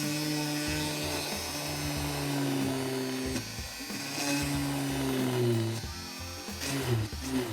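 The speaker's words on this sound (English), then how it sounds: "we always drill underwater" A high, whining drill bores into beach stones underwater, running steadily with shifting pitch, its tone rising and dipping as it bites, loud and close with no voices.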